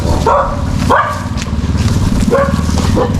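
A large dog barks several times nearby, sharp loud woofs spaced out over a few seconds above a steady rumbling engine drone.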